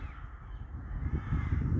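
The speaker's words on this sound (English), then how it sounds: "as you can hear, the rooks are all above us" Rooks caw overhead above their nests on a farm in winter, their harsh calls blending into a faint, continuous chorus above low wind noise.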